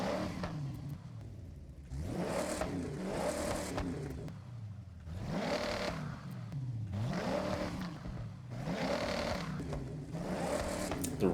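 A race car engine in the Forza Horizon 6 driving game revs repeatedly, climbing in pitch and falling back in several long, steady pulls at moderate loudness, with no talking over it.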